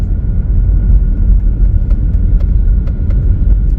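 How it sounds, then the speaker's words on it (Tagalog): Steady low road rumble from inside a car crawling through long rush-hour traffic on a Canadian highway, a continuous, even drone with faint higher tones over it and no talking. "Yan lang ang traffic dito sa ano, sa Canada, dito sa Deerpot"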